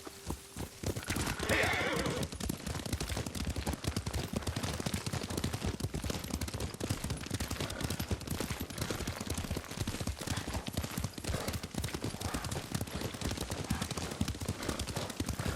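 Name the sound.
horse hooves while riding in video game Ghost of Tsushima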